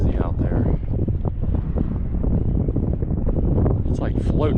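Wind gusting steadily over a lake during an offshore bass fishing trip, a loud continuous rumble buffeting the microphone while someone talks over it.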